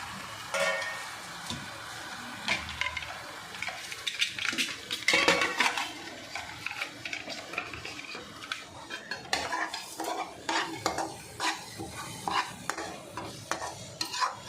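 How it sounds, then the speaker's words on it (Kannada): Dry masala is roasted and stirred in a pan for a corn capsicum curry, a spoon scraping and clinking against the metal in irregular strokes over a faint sizzle, close and fairly quiet. "ಇವಾಗ ಇದು ಡ್ರೈ ಮಸಾಲೆ ಹಾಕ್ಕೊಂಡು ಇದನ್ನು ಒಂಚೂರು ಹುರ್ಕೋಬೇಕು."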